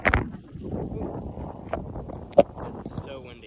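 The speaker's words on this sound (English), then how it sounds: "It's so windy out here." Strong gusts of wind rush across an open disc golf course, a steady broadband roar with buffeting on the microphone and a couple of sharp knocks, while a voice speaks under it.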